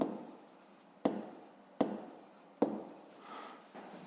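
A pen writing out a maths equation for a fifth-grade exercise, a series of close scratchy strokes in short bursts, each starting with a sharp tap on the paper.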